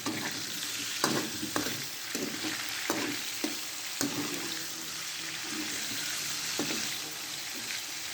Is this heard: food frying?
yes